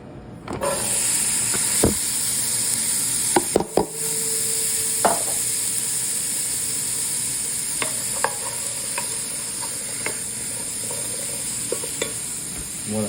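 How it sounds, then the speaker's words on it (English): Aromatics sautéing in bacon fat in a pan: a constant close sizzle and hiss with scattered clinks and scrapes of stirring, no talk. "we're going to add in the aromatics."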